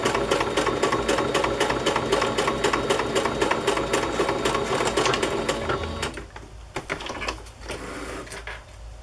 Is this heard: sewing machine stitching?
yes